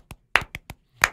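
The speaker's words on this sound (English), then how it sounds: "it's like the golf clap." A few people give a polite golf clap, a handful of sharp, sparse hand claps, close and uneven in rhythm, with silence between them and no talk.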